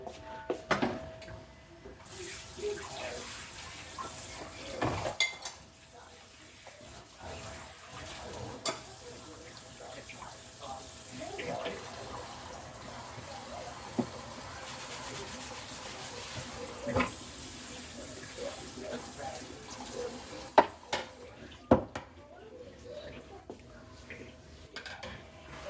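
Hands washed at a kitchen sink under running water, a soft steady trickle with occasional clinks of dishes and utensils nearby, fairly quiet.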